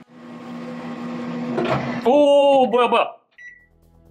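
A microwave oven hums steadily while heating a water balloon inside, then the tone shifts and ends abruptly with a short beep; a person speaks briefly over the running oven.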